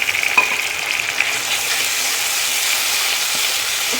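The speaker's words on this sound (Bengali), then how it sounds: "টমেটোটা একটু ভালো করে ভাজা হয়ে গেছে।" Tomato and ginger fry in a pan for a Bengali fish curry, a dense, continuous close-up sizzle with faint stirring and no voices.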